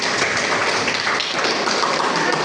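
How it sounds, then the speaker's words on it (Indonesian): Students in a classroom applaud, a dense burst of clapping from many hands that holds steady for a couple of seconds. "aplaus untuk mereka semua"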